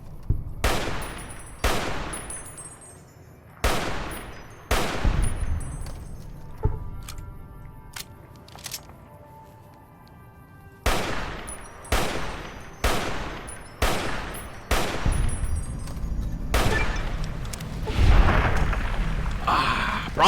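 Rifle gunfire from a .308 weapon in the video game Fallout: New Vegas, loud sharp shots fired in rapid clusters with echoing tails, a pause midway, then another quick volley, with no talk.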